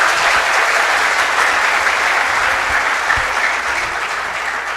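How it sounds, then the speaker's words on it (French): A crowd at an open community meeting in Haiti applauds to welcome newcomers. The clapping is dense and steady for the whole stretch, loud and close, with no voices rising above it. "Je demande tout le monde qui est habitué à venir déjà, applaudir pour nous dire la bienvenue"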